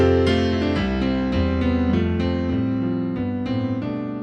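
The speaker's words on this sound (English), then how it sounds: "It's the chord progression from Pachelbel's Canon" Solo piano plays the Pachelbel's Canon chord progression as sustained, ringing chords that change at a steady, stately pace, with no voices over it.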